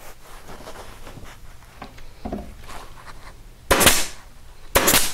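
A staple gun driving staples into upholstery on a chaise, a few faint taps early on, then two loud sharp snapping shots about a second apart, close up over quiet room noise.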